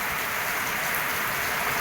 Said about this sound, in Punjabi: ਬਰਖਾ ਪੂਰੀ ਖੂਬ ਪੈ ਰਹੀ ਹੈ ਫੁੱਲ ਮੀਂਹ ਪੈ ਰਿਹਾ